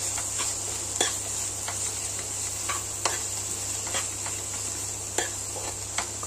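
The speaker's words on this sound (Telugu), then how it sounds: "ఆ తర్వాత దీనిలో ఒక స్పూను అల్లం వెల్లుల్లి పేస్ట్ వేసి కలుపుకుంటాను." Ginger garlic paste fries with browned onions in a pan, giving a steady sizzle under a low hum, with scattered sharp taps and scrapes as a spoon stirs the mixture.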